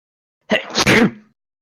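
A single loud sneeze close to the microphone during an online Pathfinder tabletop role-playing session, a sharp burst that quickly trails off into silence.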